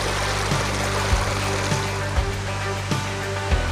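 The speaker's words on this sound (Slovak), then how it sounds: "Po cestičke mi ide potok." A mountain stream in the Romanian mountains rushes beside a hiking path, giving a steady, close, broadband roar of flowing water with faint low thumps at intervals, heard alone.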